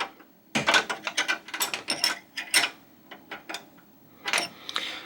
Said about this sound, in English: I'm going to tighten the lock nut down into place